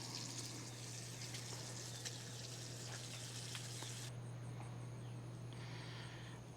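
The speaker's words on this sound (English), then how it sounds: "Got the bacon frying, our favorite Kaneka bacon." Kaneka bacon frying in a pan at an RV campsite, a steady soft crackle and hiss that runs on without pause, with a constant low hum and faint high chirping behind it.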